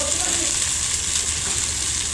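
Boiled chowmein noodles frying in a small kadai, a steady close hiss and sizzle with faint stirring, no voices heard.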